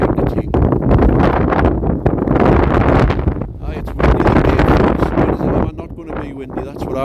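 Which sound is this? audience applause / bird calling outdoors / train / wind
wind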